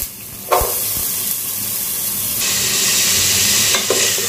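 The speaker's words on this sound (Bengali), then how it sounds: "একসাথে সবজিটাকে একটু ভাজা ভাজা করব" Vegetables and onion drop into hot oil in a pan for noodles, setting off a sudden loud sizzle that swells into a stronger, steady hiss with a stir clatter near the end; no talking.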